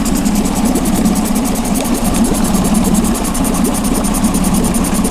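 A new 20hp Tohatsu outboard engine idles steadily at a low, even rumble with a constant, loud mechanical drone and no pauses, with no voices over it.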